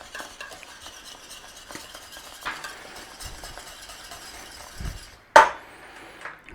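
A chicken cordon bleu casserole sauce with Dijon mustard and garlic powder stirred in a pan, faint scraping and light utensil taps, then one sharp metallic clink near the end, quiet and without speech.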